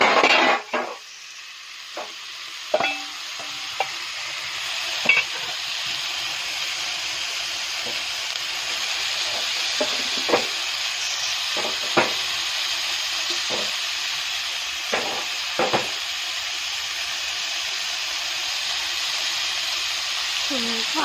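Chopped onion, ginger and carrot sizzle steadily in a pan over low heat in a home kitchen, a constant close frying hiss broken by occasional clicks and scrapes of a spatula stirring, with no talking.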